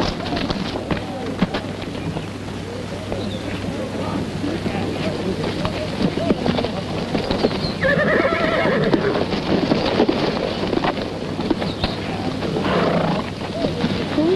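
A crowd of horses whinnies and neighs over a dense rumble of hooves and movement, loud and continuous like a herd nearby.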